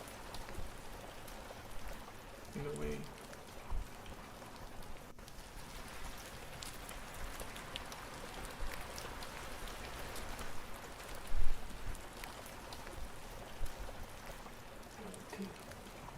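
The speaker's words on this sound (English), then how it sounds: "this rain sound might as well also be the sound of showering" Steady, dense rainfall hisses evenly throughout, like water pouring onto a surface, with a few brief louder spatters and a soft voice murmuring a couple of words.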